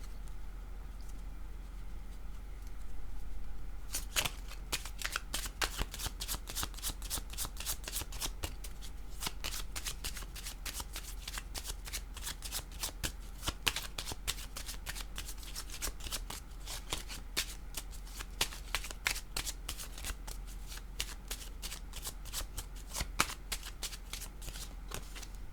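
Tarot cards being shuffled close up, a long steady run of crisp riffling clicks and flutters lasting over twenty seconds, with no talking over it.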